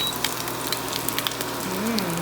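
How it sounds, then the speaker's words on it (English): Schnitzel sizzles and crackles in a hot pan, a steady frying hiss with occasional sharper pops, close and moderately loud. "We're gonna let this keep frying."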